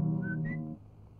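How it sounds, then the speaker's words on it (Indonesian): A person whistles a short two-note phrase, close and clear, with no talking around it, in a 1984 Indonesian comedy film. "Gua kan gak nyanyi, cuman suara siul aja."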